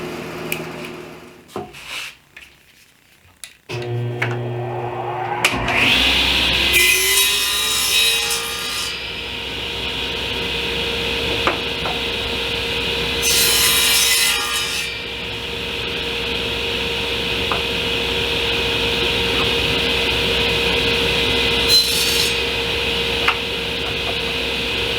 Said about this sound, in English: I'm just going to use a table saw